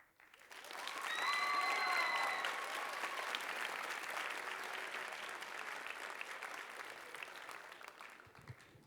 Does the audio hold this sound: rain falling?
no